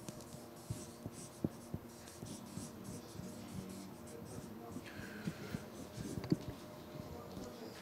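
An answer is written down by hand, a pen scratching and tapping against paper in short irregular strokes, quiet and close, with faint room noise and soft background voices.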